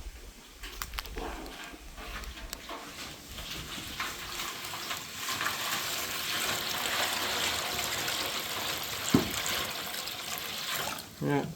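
Water sloshes and splashes as an animal water dish is tipped out and refilled with fresh water, uneven pouring and trickling close by, with a person talking over it.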